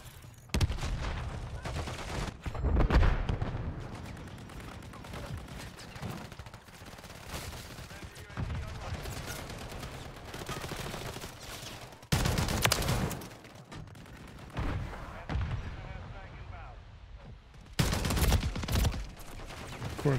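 Gunfire crackles in Call of Duty: Warzone as bursts of shots arrive in uneven clusters, some loud and close, others duller and farther off, with quieter gaps between volleys and a voice faintly present.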